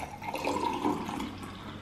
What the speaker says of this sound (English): You just need to pour water to it.